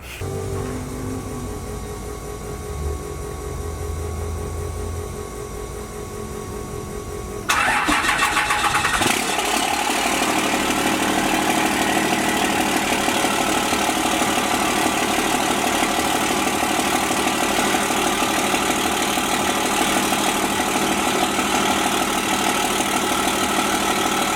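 Cold start of a 12 valve Cummins diesel engine in a truck: quiet rumble at first, then the starter cranks and the engine catches with a loud roar, settling into a steady, clattery diesel idle that runs on.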